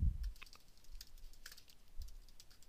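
Computer keyboard typing in a quiet room, a few soft scattered key clicks in an irregular rhythm, faint and close, with no talking.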